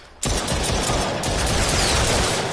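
Rapid, dense gunfire in The Brookhaven Experiment, a PSVR survival shooter, fired with an aim controller at approaching enemies; a loud, continuous burst of shots begins abruptly and carries on without a break.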